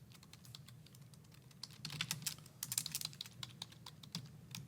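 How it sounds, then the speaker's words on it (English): Rapid, continuous clicking of keys on a computer keyboard, close and fairly quiet, with uneven bursts of keystrokes and no talking. "I guess I'll just type it out here"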